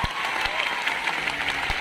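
An audience at a Teacher's Day celebration meetup claps loudly and continuously, with a few sharper individual claps standing out from the dense applause.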